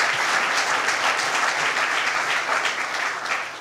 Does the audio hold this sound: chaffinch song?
no